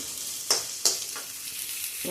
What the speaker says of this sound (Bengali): ক্যাপসিকাম একটু ভাজা ভাজা করে নেবো